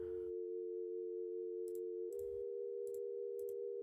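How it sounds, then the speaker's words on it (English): A soft synthesized sine wave pad layer holds one steady, pure low tone that shifts pitch slightly partway through, with a few faint clicks over it. "So just a little sine wave pad."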